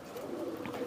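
Pigeons coo softly in a short, low, murmuring burst, faint and close, with a steady hum behind them.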